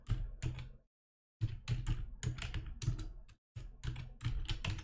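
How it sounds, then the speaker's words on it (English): Typing on a computer keyboard: quick bursts of close, crisp key clicks in short runs, broken by a couple of brief pauses. "I'm gonna type in"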